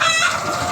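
Chickens cluck and squawk continuously in a poultry house, a dense, bright chorus of many birds close by with no talking.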